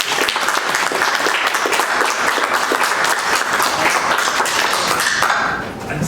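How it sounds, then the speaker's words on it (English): Sustained, loud audience applause for guests at a hybrid symposium on languages of the Levant, dense steady clapping throughout that tapers slightly at the end. "we must give another round of applause to our guests"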